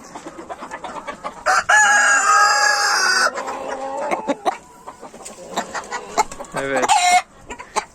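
Chickens on a Turkish poultry farm cluck and squawk as they are let out, with a loud rooster crow cutting in among the busy nearby clucking.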